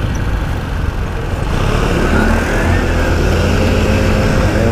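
A Rusi Rapid150 150cc motorcycle engine runs steadily and loudly nearby, a continuous droning hum with no voices over it.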